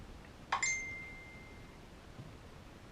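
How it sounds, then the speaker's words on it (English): Mobile phone notification on a workbench during model train repair, a single bright ding ringing out briefly and fading, fairly faint in a quiet room. "Apart from the dinging of my phone"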